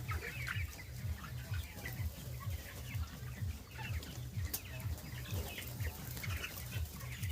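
Broiler chickens on straw bedding cluck continuously in a busy flock, with a rhythmic low pulsing and occasional wing flaps, steady at moderate distance.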